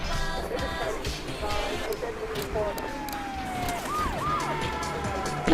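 A police car siren in the video game Grand Theft Auto III wails in rising and falling sweeps over engine and traffic noise, growing more prominent partway through.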